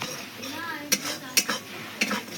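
Rohu fish curry masala being sautéed in a pan, with a steady soft sizzle broken by three sharp metal spatula clinks and scrapes against the pan.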